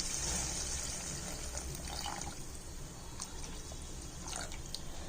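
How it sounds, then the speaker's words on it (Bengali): Water is poured into a pot of curry with taro and potato, a steady, fairly quiet splashing pour with small drips and clinks, continuing for several seconds without talk. "জলটা দিয়ে দিই"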